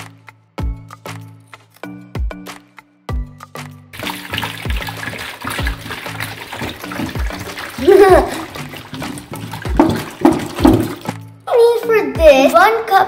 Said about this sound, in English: First, you need to pour your water in.